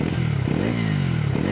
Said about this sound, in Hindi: सो कुछ ऐसा साउंड आ रहा है, ये इंजन का साउंड है,